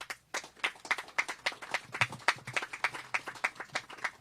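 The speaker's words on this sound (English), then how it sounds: "let's give God a round of applause" Applause at a contract signing ceremony comes from a small audience: crisp, fairly even rhythmic claps repeat for several seconds at moderate volume, with no talk over them.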